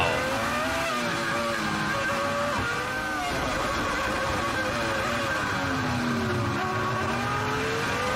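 A BMW FW26 Formula 1 car with a V10 engine screams at high revs, its pitch climbing and dropping repeatedly through gear shifts in one continuous, loud run, with no talking.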